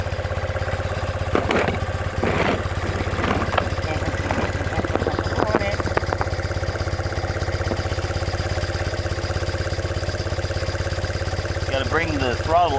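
A 1976 BMW R90S motorcycle engine runs steadily at a raised idle during carburetor synchronization, a loud, even throbbing drone that continues through the whole stretch while someone talks over it.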